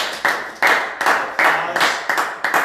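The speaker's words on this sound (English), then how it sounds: "wow, that was a loud clap by one of our studio audience" Sharp hand claps from a studio audience member, about seven loud slaps in a quick uneven rhythm, each with a short room ring, close and unaccompanied.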